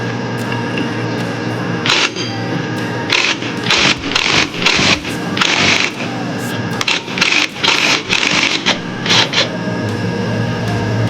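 A REAIM impact wrench at torque setting 17 is working a pulley bolt loose. Loud, close bursts of rapid hammering are broken by short pauses, over a constant mechanical hum.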